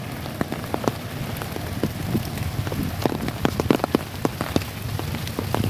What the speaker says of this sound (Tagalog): Umulan bumagyo.